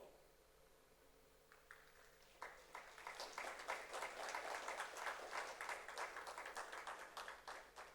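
A banquet audience at a Chamber of Commerce awards dinner breaks into applause during a speech, starting from a quiet room and swelling after a couple of seconds into a moderate, steady round of clapping that sounds a little distant.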